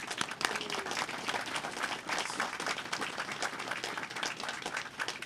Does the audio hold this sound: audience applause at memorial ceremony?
yes